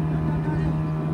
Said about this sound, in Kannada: ದೊಡ್ಡ ತೋಣಿ ಬರ್ತಿತ್ತಲ್ಲ